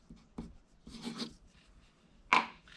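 A pen writing on a paper animation exposure sheet, giving a few short scratchy strokes with pauses between them and a louder final stroke, close and quiet.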